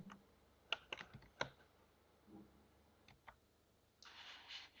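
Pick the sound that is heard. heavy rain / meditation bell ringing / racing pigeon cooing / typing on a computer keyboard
typing on a computer keyboard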